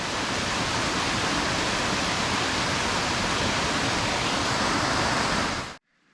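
A waterfall in Tasmania rushes as a steady, dense broadband roar, loud and close, holding constant for nearly six seconds before cutting off abruptly.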